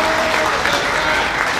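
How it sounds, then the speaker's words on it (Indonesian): Steady applause from an audience at a karate congress (INKANAS) fills the short moment, a dense continuous clatter of clapping with some faint voices mixed in. "Tepuk tangan."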